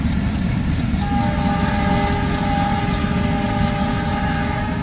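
A train rumbles past steadily and loudly in a foggy winter countryside, with a long sustained horn tone sounding over the heavy rolling noise.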